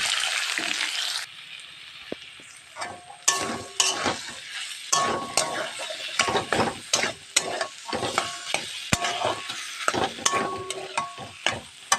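Potato and milk filling hits hot oil with ginger, cumin and green chilli, sizzling loudly while a spoon stirs and scrapes the pan in repeated sharp clinks and scrapes, close by and without talk.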